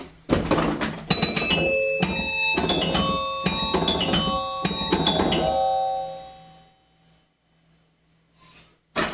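Early solid-state Star Light pinball machine ringing its chimes, bursts of bright bell tones struck in rapid clusters over mechanical clatter, fading into near silence.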